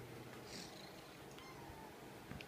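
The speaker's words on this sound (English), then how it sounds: "She's purring." A small Ragdoll cat held and cuddled indoors, purring softly and continuously at close range, with faint handling noises and a brief mew-like sound near the start.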